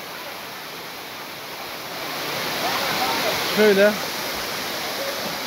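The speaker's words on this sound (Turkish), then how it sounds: "Şöyle çekin burayı şelaleyi." Çağlayan waterfall in Erzincan pours as a broad, steady roar of falling water close by, with someone speaking briefly over it.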